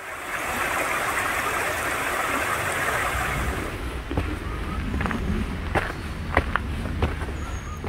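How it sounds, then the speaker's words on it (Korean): A small rain-fed waterfall on a forest trail rushes with a steady broad wash of water that fades after a few seconds, followed by footsteps and faint knocks along the path. "비가 와서 귀여운 폭포가 생겼네요"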